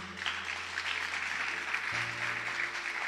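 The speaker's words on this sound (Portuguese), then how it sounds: "Aplauda bem forte ao Senhor." A church congregation applauds after a worship service, a steady wash of clapping held at moderate loudness over a low sustained hum that shifts partway through.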